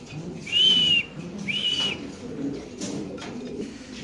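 Fancy Lahori pigeons coo softly in a cage on a pigeon farm, low murmuring coos running throughout, broken by two brief clear whistle-like tones near the start.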